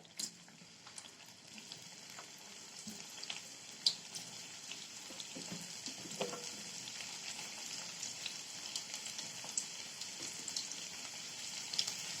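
Banana slices fry in hot oil for banana chips, a continuous low sizzle with scattered crackles and pops, steady and moderately quiet.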